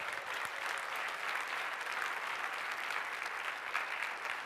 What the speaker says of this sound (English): Clap if you think you're creative.